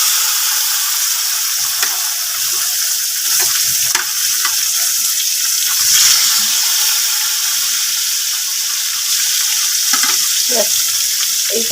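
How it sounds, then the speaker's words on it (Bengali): Rohu fish pieces rubbed with salt and turmeric fry in hot oil, a steady loud sizzle throughout with scattered crackles and pops, no voices. "নুন হলুদ মাখানো মাছগুলো এবারে একে একে দিয়ে ভালো করে ভেজে নেব"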